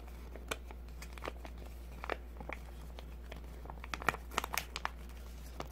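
Curled paper being pressed and smoothed flat by hand, giving scattered crinkling and rustling bursts close up, irregular and fairly quiet, with no talking.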